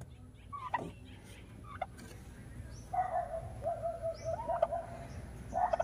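A backyard turkey in the provinces gobbles several times, first with brief calls, then a longer rolling gobble and a final burst, clear and nearby over quiet surroundings.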